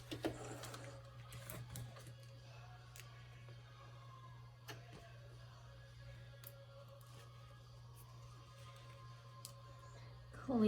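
A sewing machine sews a quarter-inch seam on a face mask, a faint, continuous low hum running throughout with scattered light ticks and clicks from handling.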